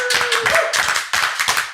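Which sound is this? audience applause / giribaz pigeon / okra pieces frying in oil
audience applause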